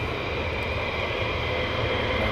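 A military jet taxiing at RAF Lakenheath makes a loud, steady engine roar with a heavy low rumble, close by and unbroken for the whole span, with no voices over it.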